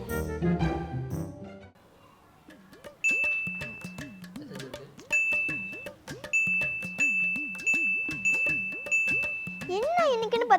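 A rapid run of phone message notification chimes, bright repeated dings arriving one after another during a New Year celebration, with a voice sounding underneath and a denser flurry of tones near the end.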